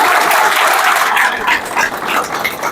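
A crowd at a political outreach gathering in Bankipur, India claps loudly and densely, the applause tapering slightly toward the end.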